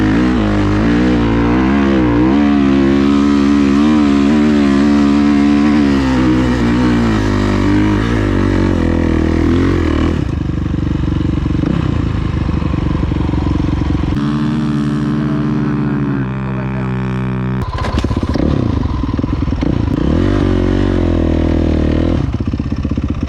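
A dirt bike on the sand dunes at Glamis, its engine loud and close, revving and shifting pitch throughout with no pauses.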